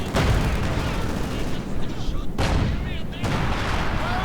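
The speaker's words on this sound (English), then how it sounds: "one hit now from the ISU-152, almost takes out the Panzer 4 in one hit" ISU-152 heavy self-propelled gun firing in a Company of Heroes 2 match, heavy booming blasts amid ongoing battle noise, with a commentator talking over the action.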